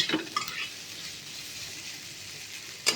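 Elephant foot yam curry sautéing in a pan, a steady soft sizzle and frying hiss running throughout with brief stirring scrapes near the start and end, no talking.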